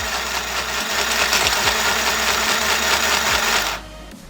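An electric sewing machine runs steadily for nearly four seconds, its fast mechanical whirr and rattle close and loud, with a few soft thumps, before cutting off abruptly near the end.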